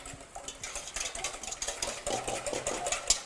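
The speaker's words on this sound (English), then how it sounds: "We're gonna go ahead and start whisking our eggs." Four eggs are whisked by hand in a bowl for a chocolate buttermilk pie, giving a fast, steady rattling clatter close up, with no talking.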